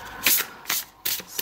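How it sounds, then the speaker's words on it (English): Three separate bursts of crisp tarot card shuffling, riffling and rubbing, close by, with brief quiet gaps between them and no talking. "So I will shuffle now forever because they are in order again."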